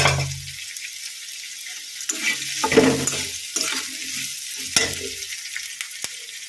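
Onions and black cumin fry in hot oil, sizzling in bursts with scraping stir strokes of a spatula, close up and uninterrupted by talk.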